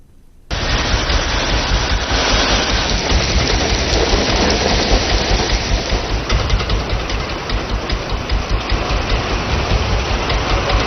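Monsoon rain pours down in a loud, dense, steady roar, starting abruptly after a short quiet moment and continuing without talk.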